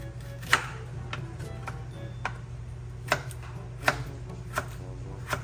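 A knife slices ginger thinly on a cutting board, giving sharp, evenly spaced taps about every half second to second, close and clear over a low background hum.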